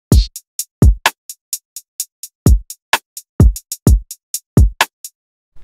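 Deep, booming trap kick drum thumps with falling pitch play a syncopated pattern for a chill trap beat, alongside crisp ticking hi-hats, loud and clean with no voices.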